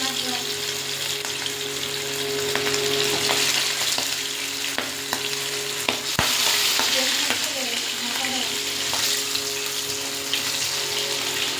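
Fish pieces frying in hot oil, a steady crackling sizzle with scattered sharp pops, heard close up and continuous with only a faint trace of voice.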